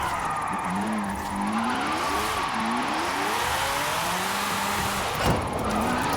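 A 2005 MG XPower SV-R with a 1,437 hp drift tune in a racing game revs slowly and steadily, its engine tone sweeping up and down in long rising pulls under a constant loud drone, with a brief skid-like burst near the end.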